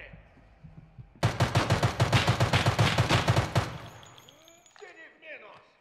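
Escape from Tarkov Arena gunfire rattles out as a rapid automatic burst of about a dozen sharp, loud shots, followed by fading echoes and softer movement sounds.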